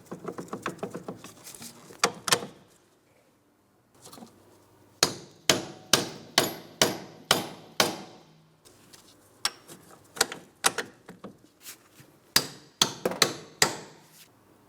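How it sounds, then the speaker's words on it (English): Sharp metallic hammer taps in quick bursts as splined bolts are driven into position during a front transmission axle seal replacement on a 2004-2008 Pontiac Grand Prix, a run of rapid strikes, a pause, then many evenly spaced blows, close and clear. "We will have to tap them into position using a hammer."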